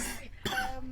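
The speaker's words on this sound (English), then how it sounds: "Fucking cough's annoying." A single sharp, nearby cough from a person interrupts a casual conversation, with a little throat-clearing and faint speech around it.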